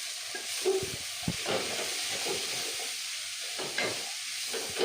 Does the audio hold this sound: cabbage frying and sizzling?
yes